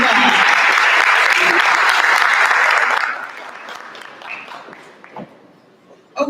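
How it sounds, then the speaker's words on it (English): An audience at a tourism product launch for Cuba and multi-destination travel claps loudly and steadily for about three seconds before the applause quickly dies away to scattered claps and quiet room noise. "give her a better clap than that"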